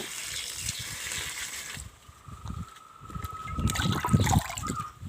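Liquid plant food poured at the base of a chili plant, a close, soft trickle and splatter that swells near the end.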